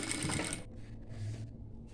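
A sewing machine stitches a skirt hem with a short, close mechanical whir that stops and starts again briefly.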